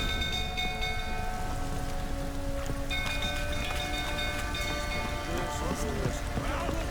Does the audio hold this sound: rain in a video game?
yes